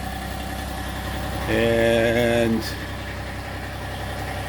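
A tractor engine idles at an off-grid property with a steady low rumble running the whole time, while someone speaks briefly over it.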